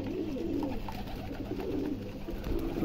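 Pigeons feed on the ground after landing, giving soft, repeated low cooing against a steady background hum, fairly faint and close.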